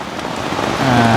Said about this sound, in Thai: ฟ้าฝนตกลงทำเปียกแล้ว